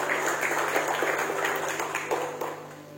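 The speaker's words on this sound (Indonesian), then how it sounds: "Tepuk tangan buat Tuhan." A church congregation applauds in a steady, dense wash of clapping that slowly tapers off, with a low electrical hum underneath and no speech.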